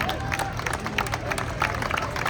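Steady applause and crowd noise at an outdoor women's firefighting competition, a broad rattle of clapping with a murmur of voices running through it, moderately loud and continuous.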